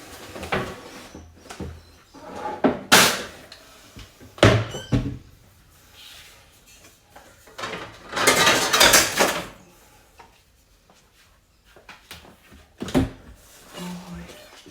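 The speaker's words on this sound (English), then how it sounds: "Put all these dishes away now" Dishes, pots and cutlery clatter and thunk as they are stacked into a kitchen cupboard, with cupboard doors and drawers knocking in bursts. Quieter gaps fall between the bursts, and faint speech comes through now and then.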